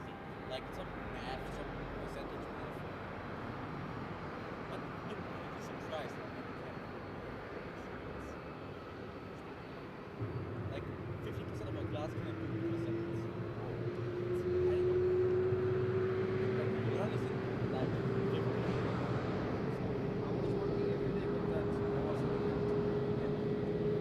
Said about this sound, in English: runway 23, cleared for takeoff